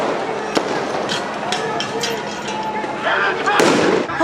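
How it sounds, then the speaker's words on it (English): Police and National Guard firing pepper-ball rounds at protesters outside a federal building: a few sharp, scattered pops over continuous crowd noise and voices, with a denser burst near the end. "we saw them firing what we believe to be pepper pellets"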